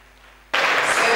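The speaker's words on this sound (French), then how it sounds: "On les applaudit encore." Applause breaks out abruptly after a quiet moment, loud, dense and sustained, for a couple celebrating 47 years of marriage.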